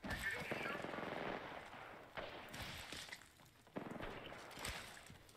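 Rapid bursts of automatic gunfire from an Apex Legends match crackle through most of the stretch, with short pauses between volleys while players talk over the shooting.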